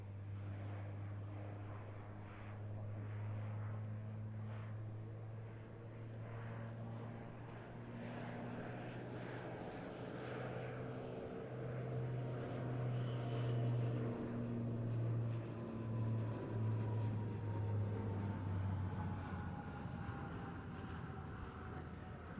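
C-27J Spartan turboprop aircraft flying a fully aerobatic solo display at the RIAT 2024 airshow, a loud, sustained propeller and engine drone that swells and shifts pitch as it manoeuvres, with no talking.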